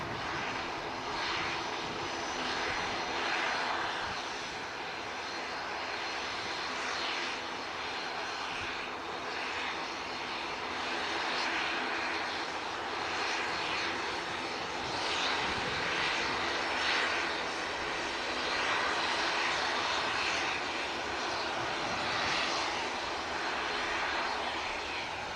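A Gulf Air airliner in retro livery passing overhead near Manchester Airport, its jet engines a loud, sustained roar that swells and ebbs gently over the full stretch, with no voices.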